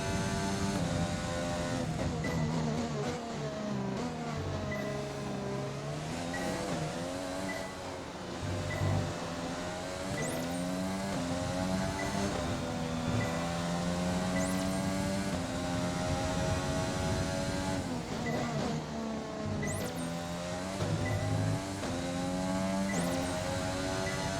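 An F1 race car engine in the F1 2020 video game's career mode gives a continuous high-revving whine, its pitch climbing through each gear and dropping sharply at every shift, steady and fairly quiet throughout.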